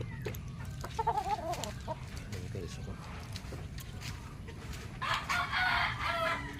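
An old Boston broodcock rooster crows on a mountain farm, the call rising near the end over a steady, quiet outdoor background, with soft voices talking and scattered clucks earlier.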